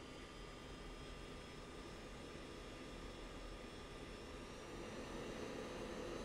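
A jet aircraft taxis at Osan in the Falcon BMS flight simulator, its engine a quiet, steady whine and rumble with faint high tones, unchanging throughout.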